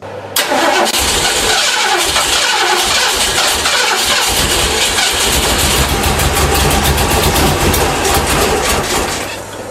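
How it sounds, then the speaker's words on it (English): An old car engine cranking over and over as someone tries to start it, a loud, rapid, rhythmic churning that runs for nearly ten seconds without catching. "you turn the key but you keep trying and trying, keep turning that key, pumping the pedal, keep turning, pumping, turning."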